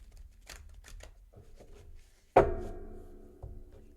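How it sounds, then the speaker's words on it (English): A single riffle of a tarot deck, a sharp close burst of cards followed by a short fading flutter, preceded by soft quiet handling. "Let me shuffle one shuffle."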